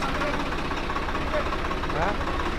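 A tractor engine idles with a steady low rumble and rhythmic knocking, continuous throughout, with faint voices mixed in, while the tractor is used to move a room.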